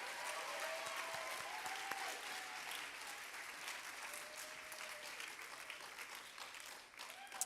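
Faint, distant audience applause at a school honor roll ceremony, steady clapping from a crowd lasting several seconds, with faint voices murmuring underneath.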